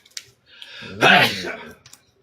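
A single close sneeze bursts out during a card game stream, preceded and followed by a few faint clicks.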